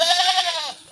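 A Black Bengal goat gives a single drawn-out bleat close by, loud and wavering, fading slightly at the end.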